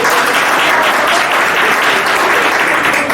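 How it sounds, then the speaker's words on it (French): A crowd at a live stage show claps loudly and continuously, a dense, even wash of applause throughout. "on vous dit d'applaudir pour les femmes"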